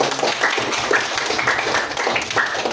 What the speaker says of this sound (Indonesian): Kasih aplaus buat temennya